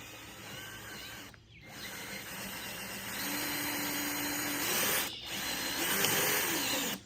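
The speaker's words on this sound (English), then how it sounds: "it becomes very easy to drill through" A power drill bores a hole up through wood for a carpenter bee trap, a steady whirring grind with a rising tone partway through, broken by two brief pauses.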